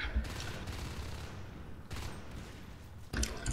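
Gunfire in a competitive team shooter match, with shot bursts at the start, mid-clip and near the end over continuous game noise.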